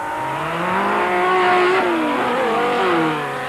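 Rally race cars, including a Golf-powered Mighty Mag and a Porsche, at the 1996 Roof of Africa, engines revving and droning loudly with rising and falling pitch as they pass on tarmac, faint tire squeal, no voices.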